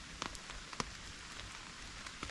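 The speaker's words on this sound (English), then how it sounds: "I'm listening to the rain hit the canvas of the tarp" Rain pattering on a canvas tarp at a woodland campsite, a steady close hiss of drops with scattered louder taps and no voices.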